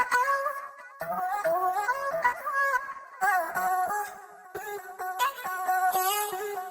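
Chopped vocal samples from the Arcade plugin's Hooked instrument preset, played in a house beat as a string of short, pitched vocal snippets in a choppy rhythmic pattern, close and steady, without any speech.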